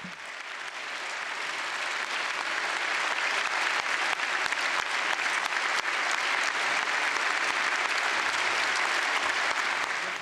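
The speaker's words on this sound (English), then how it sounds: "The Parliament clapped many times during his speech and even gave him a standing ovation." A packed European Parliament chamber in Strasbourg gives the Pope a standing ovation, dense sustained applause from many hands swelling slightly and holding steady throughout.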